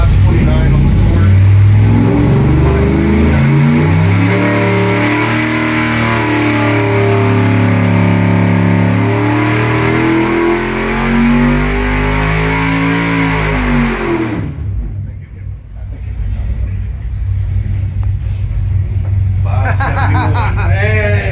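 A 396 big-block Chevy engine on a dyno pull roars loud and close, its pitch climbing steadily for about fourteen seconds before it drops back to a lower idle while voices talk.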